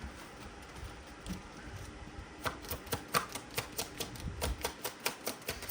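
A rapid series of crisp, papery clicks and flutters, close and fairly quiet, repeating in quick bursts as tarot cards are riffled and shuffled.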